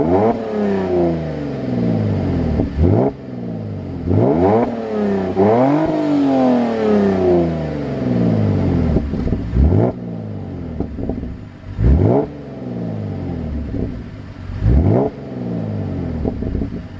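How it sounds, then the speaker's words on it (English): A loud Holden VE Commodore exhaust with cutouts open revs repeatedly, engine notes climbing and falling in sharp bursts with crackling pops between each rev, close up. "I'm going to get a quick exhaust clip for you now because of the new setup."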